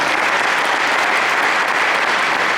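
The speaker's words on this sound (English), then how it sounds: "Let's give them another round of applause" Sustained, loud applause from the crowd at a county touchdown club's awards banquet, a dense, even roar of many hands clapping without pause.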